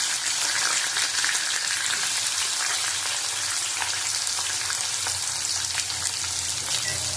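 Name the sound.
onions frying in oil with bay leaf and whole garam masala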